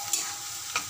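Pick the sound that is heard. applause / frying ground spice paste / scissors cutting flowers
frying ground spice paste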